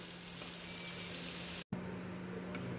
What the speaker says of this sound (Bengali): আমি কিন্তু আর কোনো ঢাকনা দেব না, এভাবেই ভাজতে থাকবো।